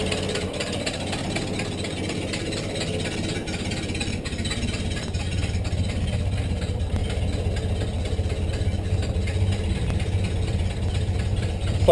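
A 1930 Ford Model A engine, just revived after 37 years in storage with a leaking radiator, runs steadily in a loud, rough, close-up chugging idle that never lets up.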